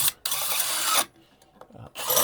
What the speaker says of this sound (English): I just have a drill with a Phillips bit.